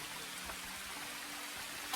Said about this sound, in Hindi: यहाँ पर देखिए दोस्तों किस तरीके से छोटे छोटे प्यारे प्यारे झरने गिर रहे हैं।